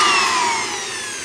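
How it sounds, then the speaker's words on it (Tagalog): A blower pushes a steady, loud rush of air into an open amplifier to clear out dust, its hiss holding even and then easing slightly toward the end. "blower po natin para mawala po yung mga alikabok dito sa loob"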